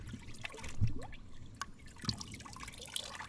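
Water poured over a Glock or rifle fouled with black powder residue, producing light dripping, splashing and trickling sounds, fairly quiet and intermittent with small sharp drips.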